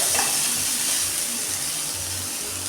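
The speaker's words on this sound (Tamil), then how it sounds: "ஒரு ரெண்டு நிமிஷம் அப்படியே நம்ம கிளறி கொடுத்துக்கிட்டே இருக்கணும் அப்போ தான் நல்லா வதங்கும் ஆயில் விட்டு வதக்கணும் இதை" Ingredients sautéing in oil for a country chicken curry, a dense continuous hiss of frying with faint low stirring knocks, close and steady with no voices.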